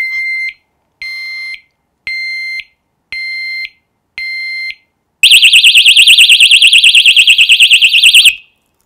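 Loud motorcycle disc-lock alarm, rated 120 decibels: five evenly spaced high-pitched beeps, then a rapid continuous warbling siren that cuts off abruptly after about three seconds.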